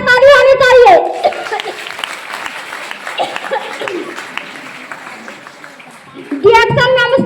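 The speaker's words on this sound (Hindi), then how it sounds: "कैसा ताली होनी चाहिए?" An audience claps through a talk, a dense patter of hands between a speaker's voice at the start and again at the end, loud and close in the middle stretch.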